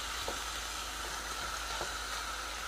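Chicken browning in its own fat and juices in a pan, a steady soft sizzle and hiss throughout with a few faint pops, no talking.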